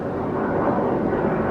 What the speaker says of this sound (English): a fighter jet